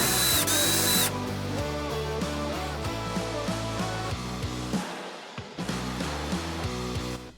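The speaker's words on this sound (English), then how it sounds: "I drilled some small holes in the tabs of the new strip" A power drill bores small holes through metal mounting tabs on a classic VW Beetle, a steady loud whirring drone with shifting pitch and brief gaps, close by and without talk.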